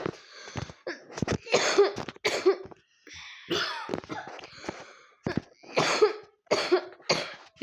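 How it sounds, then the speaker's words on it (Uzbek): A person's coughing fit indoors: a rapid series of harsh, close coughs in irregular clusters with short breaths and pauses between them. "Yo'talib qoldim do'stlar."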